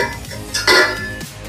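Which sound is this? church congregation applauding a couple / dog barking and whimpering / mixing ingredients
mixing ingredients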